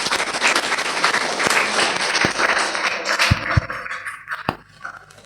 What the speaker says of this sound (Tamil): ஒரு முறை கைத்தட்டி பாராட்டலாம் அவருக்கு.